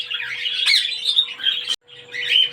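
Pet parrots chirp and squawk inside an enclosed shed, a close, busy run of bright tweets that drops out briefly and then resumes.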